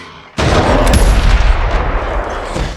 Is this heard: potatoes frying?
no